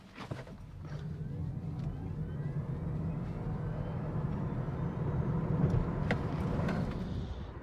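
A Smart #1 Premium Edition electric car accelerating hard from 0 to 60, a steady rising drive hum and road roar heard from inside the cabin, continuous and fairly loud with no talking.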